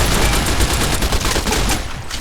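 Dense, rapid gunfire from Fallout: New Vegas rattles continuously at close range, a loud fusillade of overlapping shots with no talk.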